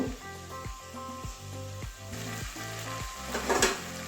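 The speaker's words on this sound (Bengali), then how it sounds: "এমনি একটু নাড়িয়ে দেবো" Brinjal frying with tomato and onion in a pan is stirred, giving a steady close sizzle broken by soft scraping strokes, with faint music in the background.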